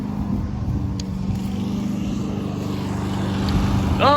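A Honda HRN216VKA lawn mower engine drones steadily nearby, its low hum wavering slightly before swelling a little at the end, surging and starting to die.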